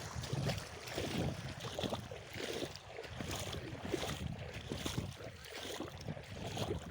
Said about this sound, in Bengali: এই যে দেখতে পাচ্ছেন জল পড়ছে